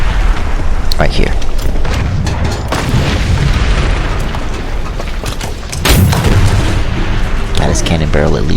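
Tank cannon shots from a QF 3.7 Ram in a video game boom loudly, with sharp blasts near one and six seconds and rumbling battle sound between, while a player talks over it.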